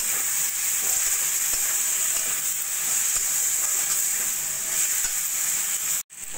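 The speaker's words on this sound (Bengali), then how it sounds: "ডালটা দিয়ে সবজির সঙ্গে ভালো করে কষিয়ে নেব।" Washed red lentils sauté with vegetables in a pan, giving a loud, steady hiss and sizzle close by with faint stirring. It cuts out abruptly for a moment near the end.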